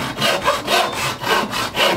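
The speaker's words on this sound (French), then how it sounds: "On descend le trait de scie juste en avant sous contrôle de la vue." A hand frame saw cutting wood in steady, rhythmic back-and-forth strokes, loud and close, about four or five strokes.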